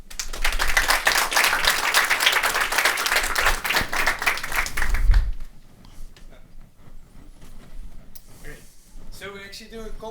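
Conference audience applause after a talk, dense clapping for about five seconds before fading into scattered claps and quiet room noise, with a voice briefly speaking near the end.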